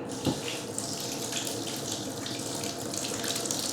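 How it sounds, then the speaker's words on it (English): Steady rush of water running from a bathroom tap at an all-inclusive resort in Cancun, a continuous hissing flow with a small splash near the start, close and alone. "the yellowy brown water that comes out when you first turn on the taps"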